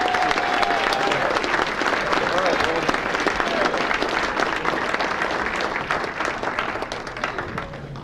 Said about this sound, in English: a big round of applause for Bobby Lewis